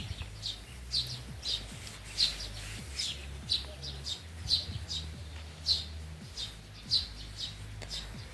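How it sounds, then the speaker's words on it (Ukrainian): Sparrows chirp by a home vegetable garden in short, bright bursts that repeat about every second, fairly near, over a low rumbling background. "Та багато горобців чомусь останнім часом літає."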